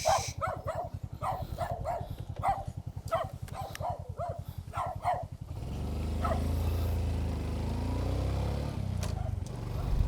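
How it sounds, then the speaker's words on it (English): A dog barks repeatedly in a steady series of sharp, close barks beside a road, with a motorcycle engine idling and then revving up as the barking stops. "I didn't want the owner coming out yelling at me either for making your dog bark."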